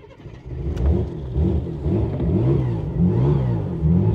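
A 2.8 V6 engine in a Ford Granada Mk2 Ghia X, abandoned for years, revs repeatedly with rising and falling throttle blips, close and steady, with no voices.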